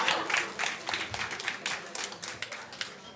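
Audience applause at a comedy show, a crowd clapping steadily in rapid bursts that gradually thin out over a few seconds.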